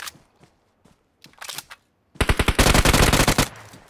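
Gunfire in a mobile battle-royale shooter with a Glacier M4 rifle: a few scattered faint shots, then a loud, near burst of rapid automatic fire lasting about a second and a half before cutting off.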